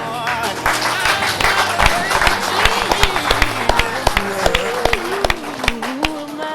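A church congregation at a wedding claps in irregular bursts, sharp hand claps over voices and tuneful singing or music, fairly close and lively throughout.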